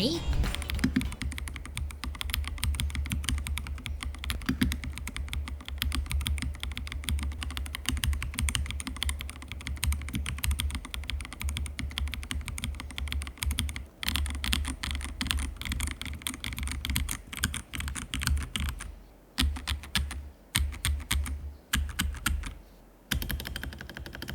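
Continuous fast typing on a Redragon K649CT transparent mechanical keyboard, dense close clacking keystrokes with a few short pauses near the end.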